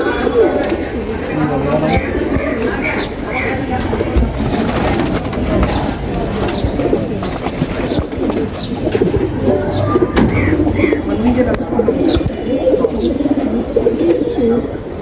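A male pigeon coos in repeated throaty rolls close by, other birds calling around it in a loft while someone talks over much of it.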